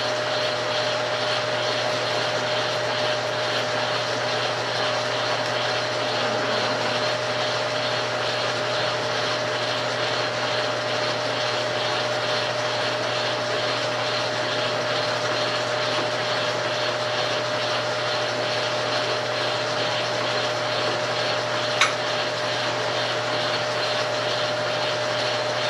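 A lathe enlarges a hole to half an inch with a steady, continuous motor whine and hum that stays even throughout.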